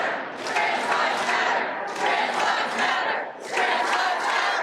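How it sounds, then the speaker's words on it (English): A roaring crowd of supporters and members of the trans community at the Oklahoma state capitol, loud and sustained, swelling in waves of shouting and cheering with brief dips between surges. "a roaring crowd of supporters and members of the trans community using their voice"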